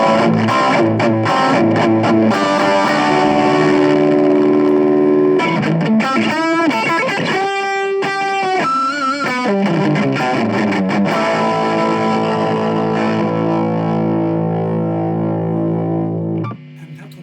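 Electric guitar played through a Boss Power Stack ST-2 distortion pedal into a large speaker: heavily overdriven sustained chords and ringing notes, loud and continuous, cutting off sharply near the end.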